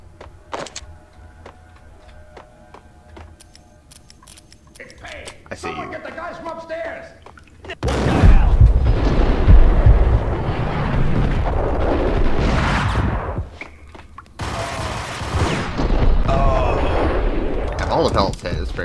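Semi-automatic gunfire in Max Payne sounds in a dense, loud rush of shots and impacts after a quieter opening, with voices mixed into the noisy game soundscape.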